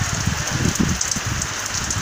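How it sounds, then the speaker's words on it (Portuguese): Rain falls steadily in the Brazilian sertão during a sunny spell, a dense even patter of drops on surfaces close by, with no voices over it. "Tá chovendo,"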